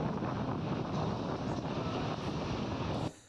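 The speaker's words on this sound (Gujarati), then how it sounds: "પવનના સુસવાટા સાથે કમોસમી વરસાદ પડ્યો છે" Wind roars continuously against the microphone with a dense rush of unseasonal rain in rural Gujarat, India, then cuts off abruptly near the end.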